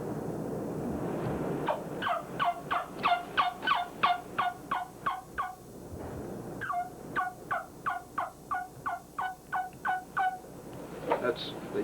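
A turkey mouth call imitates a hen calling the gobbler during mating season: two long runs of sharp, evenly spaced yelps, loud and close, with a brief pause between them and no talk.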